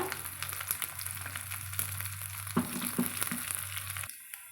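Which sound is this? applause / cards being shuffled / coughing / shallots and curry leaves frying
shallots and curry leaves frying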